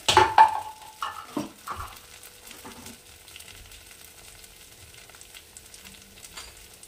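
Paneer kalia masala with nuts and poppy seed paste sizzles loudly in a pan as a little water goes in, a sharp burst of frying hiss and clatter that quickly fades to a quiet simmering crackle, close and without talk.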